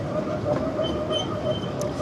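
Roller coaster train of the Wave ride at Drayton Manor theme park, a steady rolling rumble with faint squeals, continuous and fairly close throughout, with no voices.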